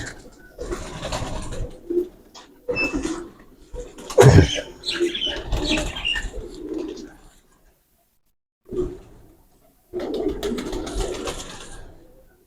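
Hera Lal pigeons on a rooftop loft give low, throaty coos in short bursts separated by pauses, close and fairly loud, with a brief rough cough-like sound in the middle.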